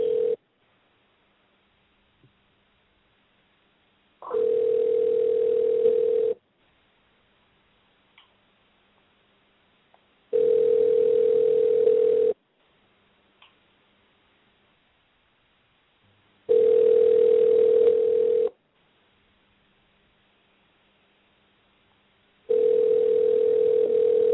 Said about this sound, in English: we're gonna try once more to get Glazer on the line